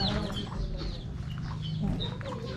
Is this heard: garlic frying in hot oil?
no